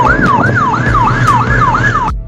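An ambulance siren wails in a fast repeating rising-and-falling cycle, loud and close, about six sweeps over a low road rumble before cutting off sharply.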